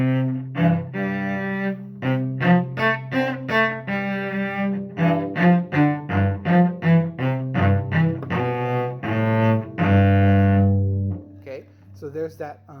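A cello plays the first line of Happy Farmer in a lively, bouncing rhythm of short detached notes that ends on a longer held tone, close and clear, with no talking over it.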